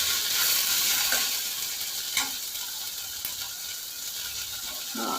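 Dried brinjal and drumstick pieces dry-roasting in a pan, giving a continuous crackling sizzle with a few rattling scrapes as they are moved, close and fairly loud, with no voices.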